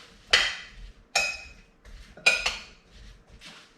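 Seasoned potatoes tossed in a bowl, three sharp clattering bursts of utensil against bowl, each decaying quickly, close and alone.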